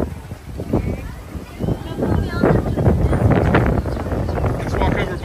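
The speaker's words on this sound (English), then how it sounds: "It's windy." Wind blows on a seaside boardwalk, buffeting the microphone in loud, irregular gusts that swell toward the middle, with people talking under it.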